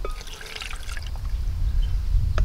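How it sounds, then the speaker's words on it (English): Chicken broth pours into smoked Carolina Reaper salsa in a short, close, soft liquid trickle and splash. "This is a little chicken broth."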